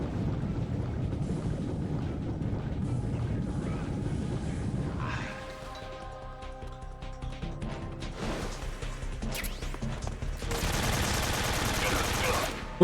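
AK rifle fire in Metal Gear Solid 3, heard as rapid automatic bursts under a rushing, wind-like background, fading into a quieter ringing stretch before another dense loud burst near the end.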